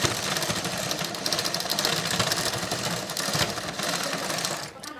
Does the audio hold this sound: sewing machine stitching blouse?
yes